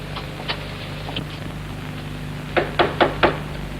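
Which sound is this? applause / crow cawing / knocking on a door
knocking on a door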